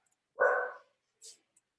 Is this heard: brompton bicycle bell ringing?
no